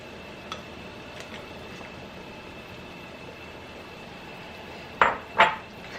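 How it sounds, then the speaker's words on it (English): Quail eggs are set gently into a large 20-quart pot, giving two sharp close clinks near the end after a quiet stretch of low background hum. "you want to add in your quail eggs, okay? Gently, gently."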